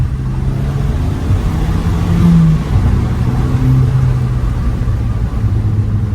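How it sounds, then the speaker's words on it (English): Induction roar from the standard, unmodified intake of a 2008 Volkswagen Eos with manual gearbox, a steady low engine drone that swells and dips slightly under load, close and loud throughout with no talk. "There's a lot of induction noise from this standard intake."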